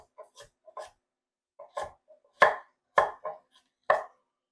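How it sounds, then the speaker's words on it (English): Carrots are chopped with a knife on a cutting board, short sharp thuds in uneven bursts, some quick double strokes, close and otherwise quiet. "look at these carrot chopping skills"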